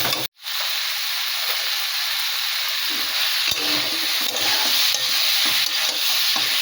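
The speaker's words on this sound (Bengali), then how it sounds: "এরপরে আমি এই ফুলকপিটা দিয়ে দেবো, আস্তে আস্তে এগুলো সব কষাবো।" Cauliflower, partly boiled with potato for a Bengali tengra fish curry, stir-fried in a pan with a steady loud sizzle and hiss, brief stirring scrapes over the frying, no talk.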